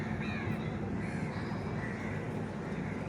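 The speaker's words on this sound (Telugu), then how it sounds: "ఆ చెట్టు మీద పక్షులు కనబడుతున్నాయా మీకు?" Crows caw from a tree along the Alleppey backwaters, heard from a passing boat as faint, distant calls over a steady broadband engine and water hum.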